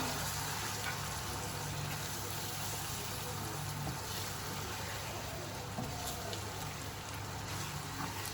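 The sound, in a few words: spices being fried in a pan for fish curry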